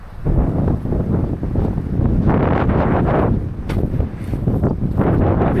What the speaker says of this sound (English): Huge wind gusts outside.